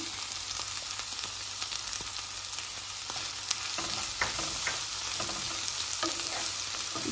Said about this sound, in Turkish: 10 dakikada bu şekilde yavaş yavaş kızarıyor. Çok çabuk pişiyor.